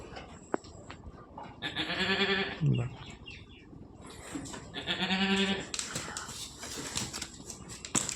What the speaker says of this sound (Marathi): गावरान शेळी.